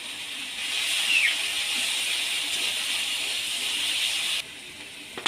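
Garlic paste hitting hot oil with fried onion in a pan for a fish curry, a steady, close hiss of frying that holds for several seconds before dropping to a quieter sizzle.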